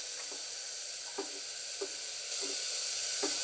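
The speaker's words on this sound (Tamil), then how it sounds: "வெங்காயம் வணங்கின அப்புறம் தான் தக்காளி போடணும். இப்போ தக்காளியை போடுங்க." Tomatoes dropped into onions already frying in a pan give a steady close sizzle, with faint periodic scrapes of stirring over the hiss.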